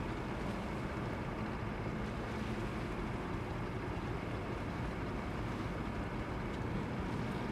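Steady broadband rush of water against a boat hull in the video game Reanimal, with wind-like noise, constant and loud throughout with no voices.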